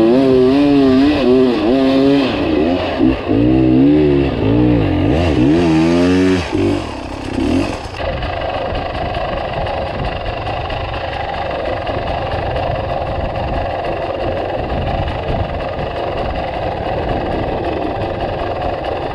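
An XR600 enduro motorcycle engine revs hard in rising and falling surges, then settles into a rough, steady idle, loud and close throughout.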